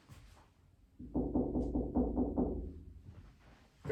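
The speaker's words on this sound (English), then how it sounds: "I'm gonna go knock on the front door" Someone knocks on a house's front door: about seven quick, evenly spaced raps in a single burst, fairly loud and close, followed by quiet.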